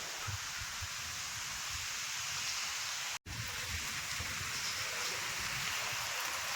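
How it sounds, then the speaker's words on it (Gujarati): Steady, dense rain hissing continuously at a resort in Sasan Gir, Gujarat, with a brief dropout partway through; no voices. "ધોધમાર વરસાદ આવે છે."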